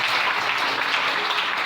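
A church congregation bursts into steady, dense applause acclaiming the Lord, filling the room evenly and loudly from start to finish.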